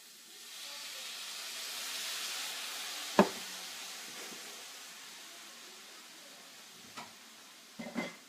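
Chicken, potatoes and asparagus steam and sizzle in a skillet after extra liquid is added, giving a steady soft hiss that swells and fades, broken by a few sharp clatters of a utensil against the pan.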